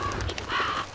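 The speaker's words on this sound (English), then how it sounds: "Bastard birds." Crows caw in the horror game Slender the Arrival, a few loud, close, hoarse calls in quick succession with no talking.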